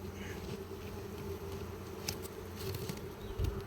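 Honey bees buzz at a hive during spring Varroa treatment, a faint, continuous drone with scattered closer buzzes passing by.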